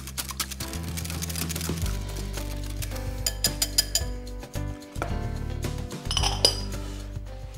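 Coleslaw dressing of pepper and cider vinegar being whisked in a bowl, with quick clinking taps of utensil against dish over a steady bed of background music, no talking.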